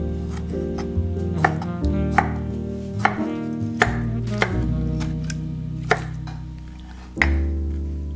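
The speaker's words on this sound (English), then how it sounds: "Cut the pears into small cubes." A knife chops pears into small cubes on a board, a steady run of crisp, close knocks over a continuous musical background, with one heavier thump near the end.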